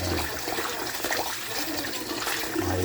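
Rice being washed in water, a continuous close sloshing and swirling of liquid with brief dribbles, fairly loud and without any talking.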